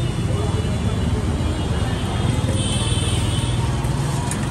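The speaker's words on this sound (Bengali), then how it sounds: "সাইলেন্সারটা ওই সাউন্ডে রাখছে" A modified Bajaj Boxer cafe racer motorcycle fitted with its stock silencer runs with a steady, loud engine and exhaust drone, with a person talking over it throughout.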